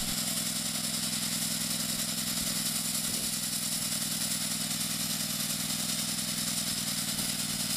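Portable fire pump engine running steadily during priming, a continuous mid-pitched motor drone with a rattling clatter, close and loud, with no talk over it.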